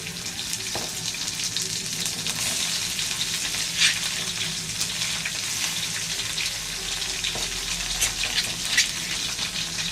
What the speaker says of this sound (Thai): พอน้ำมันร้อนก็ ใส่เครื่องแกงที่เราตามไปนะครับ